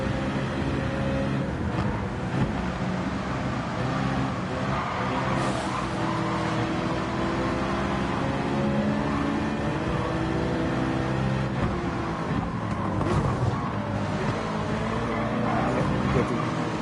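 Race car engines drone continuously in Gran Turismo 7 during a Dragon Trail Jardins race, with loud, sustained multi-car engine tone, shifting pitch and brief tire noise as cars battle for position.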